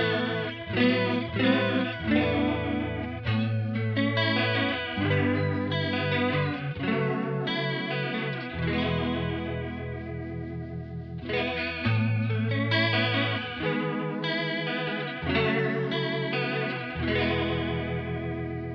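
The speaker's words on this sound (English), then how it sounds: "So really nice, warm chorus and vibrato sound." BOSS CE-1 chorus and vibrato pedal running through a Kemper Profiler, giving a warm, wavering modulated shimmer to sustained electric guitar chords and arpeggios, played alone and continuously with no talking.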